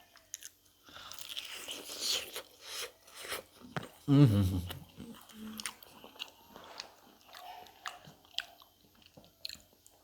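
Crunchy, juicy fried chicken from an Indian street-food mukbang spread is bitten and chewed close to the mic, with a loud crunch near the middle, amid scattered mouth and handling noises.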